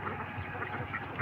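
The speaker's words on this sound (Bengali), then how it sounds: "এখানে আপনার 800 পিস হাঁস।" Many domestic ducks on a farm of about 800 birds, fed a mix of wheat and maize, produce a dense continuous chorus of overlapping quacks, moderately loud and steady throughout, with no talking.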